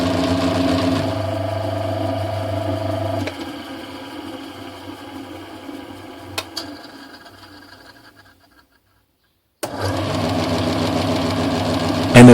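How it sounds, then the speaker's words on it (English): Oiled, machined parallel-depth bevel (miter) gears run under power with a noisy mechanical whirring hum, then wind down and briefly go silent before starting up again. "Some oil to run them under power. Noisy."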